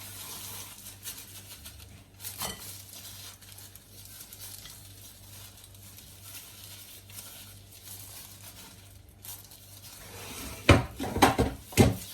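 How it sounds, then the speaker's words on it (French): Big chocolate chunks pressed into cookie dough by hand, a soft steady rustle and squish that runs throughout, with a few louder knocks and clatters of the chunks near the end. "je vais commencer par y mettre mes gros morceaux de chocolat dedans"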